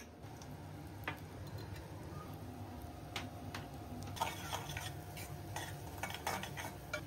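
Turmeric being stirred into ginger-garlic paste frying in a pan for mutton curry, a soft low sizzle under scattered light scrapes and taps of a spatula, fairly quiet and steady.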